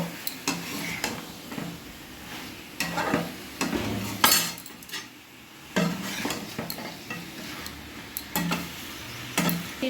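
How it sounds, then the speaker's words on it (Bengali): Marinated lemon chicken being kasha-fried in a pan over a high-to-medium gas flame, with irregular loud stirring scrapes and clanks of spoon on metal over a low sizzle, close by. "মাংসটা আমি কষে নেব হাই টু মিডিয়ামে গ্যাসের ফ্লেম রেখে"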